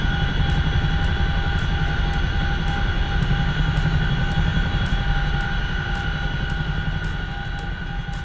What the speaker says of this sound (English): I love that sound of the Chinook